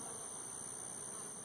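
A constant, even buzzing of many honey bees at a hive box fills the clip, a dense swarm drone with no breaks.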